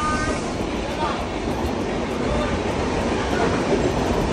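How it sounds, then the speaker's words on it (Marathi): A moving train carries along at steady speed with loud, continuous rumble and rail noise; a voice speaks faintly underneath. "असं चालत्या ट्रेन मधनं कधीच उतरू नका."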